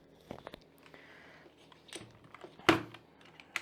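A few scattered key presses on a Blitzwolf BW-KB1 wireless mechanical RGB keyboard, faint clicks spaced irregularly with one sharper, louder clack near the end, in a quiet room.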